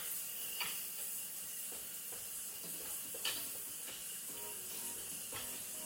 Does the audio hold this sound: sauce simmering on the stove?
yes